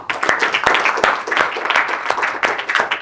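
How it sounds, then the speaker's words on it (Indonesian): A small group claps in a dramatized scene, loud uneven individual hand claps close by, irregular and overlapping for a few seconds. "Tepuk tangan dong."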